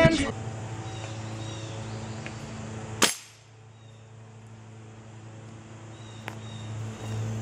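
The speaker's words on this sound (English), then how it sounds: "you saw me shoot that target over there" One sharp gunshot fired at an outdoor target cracks out midway, loud and close, with a small second pop later, over a steady background drone of insects and distant traffic.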